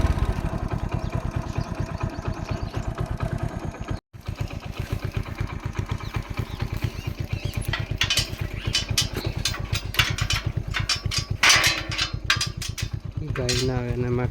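A motorcycle idles on a farm path with a steady, close, rapid low putter that pauses once briefly. Sharper clattering bursts and some rustling come in toward the end.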